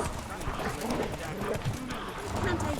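Horse hooves clip-clop at a gallop in The Witcher 3, a steady drumming rhythm running under a voice and game sounds throughout.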